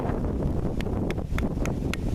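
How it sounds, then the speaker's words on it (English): Wind gusts buffet an outdoor microphone in a steady low rumble, with a few faint rhythmic ticks or taps sounding through the noise. "I hope you guys can hear me over that wind."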